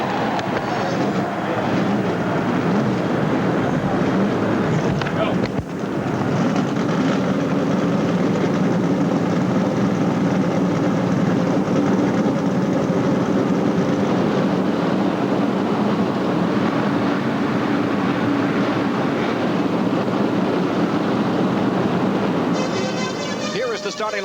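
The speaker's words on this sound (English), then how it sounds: "Gentlemen, start your" A field of race car engines roars at the 1988 Daytona 500 start, a dense, continuous rumbling drone with a brief dip partway through, heard at a distance beneath crowd and broadcast ambience.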